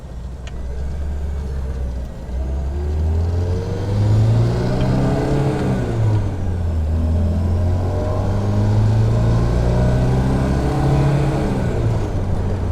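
A 1974 BMW 2002tii with a five-speed gearbox heard from inside while driving, its engine droning steadily with rising and falling pitch through gear changes and acceleration, close and loud with road noise beneath.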